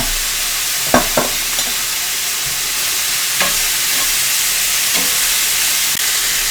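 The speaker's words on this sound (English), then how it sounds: "let's throw that meat back in there. And we're just going to combine everything" Cheesesteak meat sizzles steadily in a hot pan, broken by a few sharp scrapes and clacks of a utensil stirring and combining everything, close and continuous with no talking.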